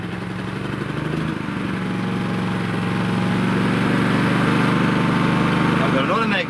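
An inverter generator engine, a Honda EU20i or Yamaha EF2400iS, starts and settles into a steady, close mid-pitched running drone with a rhythmic throb, while people talk over it.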